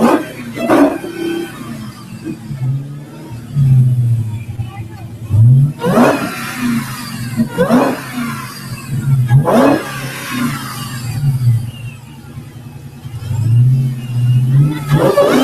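A car revs its engine at a car show in repeated loud surges, rising and falling every couple of seconds, with people talking nearby between the revs.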